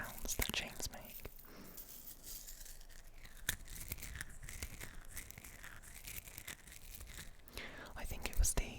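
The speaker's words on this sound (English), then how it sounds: "I really love the crunchy sounds that chains make." A rose gold chain is handled close to the microphone, giving soft crunchy rustles and faint clinks through a quiet, intimate setting, with breathy whispering at the start and end.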